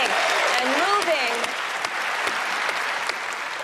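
Steady, dense applause from a live magic show audience fills the space, loud and continuous, with crowd noise and a voice talking briefly over the clapping near the start.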